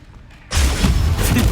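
Incendio fire spell cast in Hogwarts Legacy: after a quiet moment, a sudden loud whooshing burst of flame erupts with a deep boom and keeps roaring, close and full.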